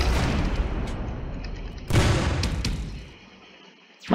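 Ship turret cannons firing in Roblox Galaxy, a loud roaring barrage that decays, a second heavy blast midway trailing off into quiet, and a sharp crack at the very end.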